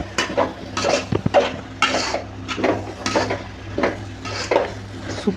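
Cabbage with tomato and onion is sautéed in a pan for a South Indian dish, with a spatula scraping and stirring in about a dozen rhythmic, close strokes over a soft sizzle.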